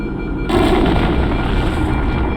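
Antimatter charge exploding aboard a ship in the video game Halo: Combat Evolved, a loud sudden blast that swells into a sustained heavy roar and rumble lasting a couple of seconds.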